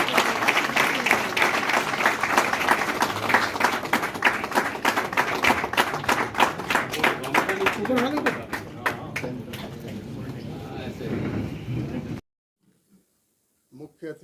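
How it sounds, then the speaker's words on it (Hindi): An audience at a SC/ST Federation event in Delhi breaks into loud, sustained applause, dense and continuous, thinning into scattered claps before stopping abruptly; a voice is heard briefly amid the clapping. "अरे ताली जोरदार बजाओ।"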